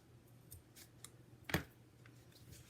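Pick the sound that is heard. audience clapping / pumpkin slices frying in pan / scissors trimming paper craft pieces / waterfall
scissors trimming paper craft pieces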